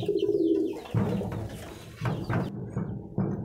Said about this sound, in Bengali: অনেক সুন্দর ডাক দেয় কবুতরটা